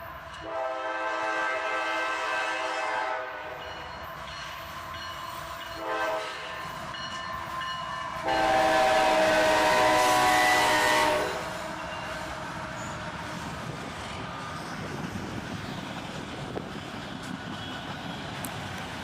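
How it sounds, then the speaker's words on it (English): CSX 911 locomotive leads a southbound auto rack train, sounding its horn in several blasts, with the loudest long blast midway, over rumbling rail noise. "CSX 911, the spirit of our first responders locomotive, leads this southbound auto rack train."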